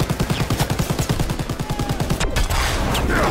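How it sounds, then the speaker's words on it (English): Heavy gunfire in a Call of Duty WWII campaign battle, dense rapid bursts of automatic fire pounding in a steady rhythm, loud and close, then giving way to a sustained rumbling roar. "Heavy gunfire on that"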